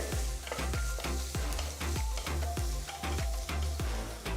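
Chopped onions and green chillies sauté in oil in a kadai, with a loud, steady sizzle and rhythmic stirring scrapes roughly twice a second, close up.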